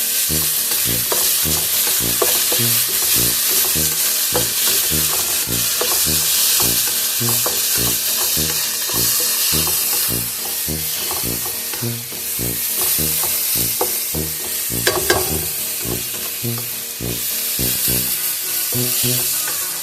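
Chicken breast sizzling and frying in a pan while being stirred, a steady loud crackle with repeated scraping strokes of the utensil throughout, no talking.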